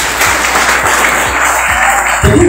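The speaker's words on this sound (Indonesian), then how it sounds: "Tepuk tangan dong." Loud audience applause fills the room as a dense, continuous wash of clapping, with a few low thumps underneath and no clear speech over it.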